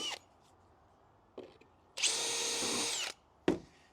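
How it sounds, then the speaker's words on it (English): A power drill pre-drilling pilot holes in thermo-treated oak decking whines in one sustained burst of about a second, bracketed by short clicks and scrapes of a tool against wood, close up. "we are going to pre-drill, we're going to pilot our screw holes using the guides"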